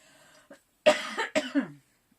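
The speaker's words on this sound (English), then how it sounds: "I'm just going to cough again, so pardon me." Two or three hoarse coughs in quick succession, close and clear, after a brief breath.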